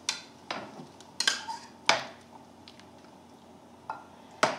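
Shrimp, about a pound, go into a pan of boiling scampi sauce with chicken stock, giving sharp close clatters and wet splats at irregular moments over a low simmering background.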